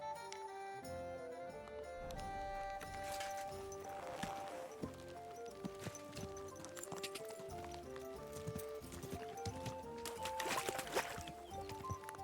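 Horse hooves clip-clop steadily in the video game Kingdom Come: Deliverance II, mixed with layered game music and other effects at a moderate level.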